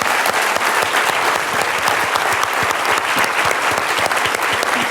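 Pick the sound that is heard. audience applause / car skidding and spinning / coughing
audience applause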